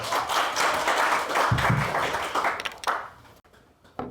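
An audience applauds the center director at a 2022 results-sharing event of a Chungnam public-interest activity support center: dense clapping for about three seconds, then thinning into scattered claps and a few taps before fading.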